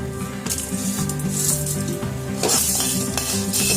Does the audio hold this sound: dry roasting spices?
yes